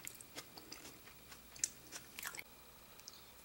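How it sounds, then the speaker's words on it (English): Someone chewing crunchy tofu from a plant-based meal kit, close to the mic and fairly quiet, with scattered crisp bites and crunches spaced irregularly. "Did you hear that crunch of that tofu just now?"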